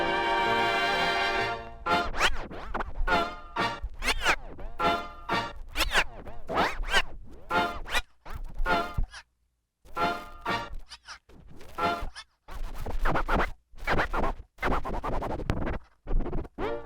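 Rapid, rhythmic scratching of a vinyl record, with short zipping back-and-forth bursts chopped by brief gaps, loud and close, following a short sustained musical tone.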